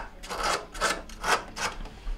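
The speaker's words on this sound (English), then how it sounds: "I'm going to try to clean them up the best I can, and with my sandpaper. So I'm just going to start sanding them down." Sandpaper scrubbing copper refrigerator line connections during a Maytag compressor replacement, five rhythmic rasping strokes close up, each a short scratchy burst with brief pauses between.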